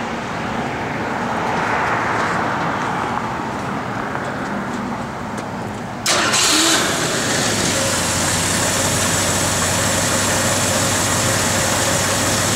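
A 1969 Ford Torino GT engine cranks and catches partway through, then settles into a loud, steady idle close by, after a stretch of quieter background rumble.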